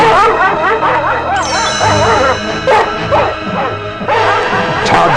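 A hunting dog in a read-along story sound effect barks loudly and close up with excited yips and a few whimpers, in rapid repeated bursts that continue throughout.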